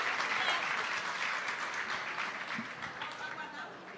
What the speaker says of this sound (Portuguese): Uma salva de palmas aí, paróquia Nossa Senhora de Lourdes.